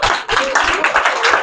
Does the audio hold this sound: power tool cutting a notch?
no